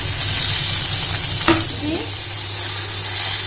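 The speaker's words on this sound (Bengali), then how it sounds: "তো এবারে আমি দিয়ে দিচ্ছি ভেজে রাখা ভেন্ডিগুলো," Steady loud sizzling from a hot pan, with a brief clatter as pre-fried okra goes in over potatoes, then continued frying hiss.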